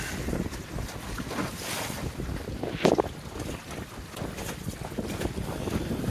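A sailboat moves through wind on foggy Lake Superior beside old ore docks, with steady wind noise buffeting the microphone and water washing along the hull, plus one brief sharp gust or splash midway.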